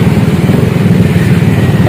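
Yamaha NMAX 155 scooter fitted with an aftermarket racing exhaust, its engine idling loudly and steadily with a throbbing low rumble, close by and with no talk.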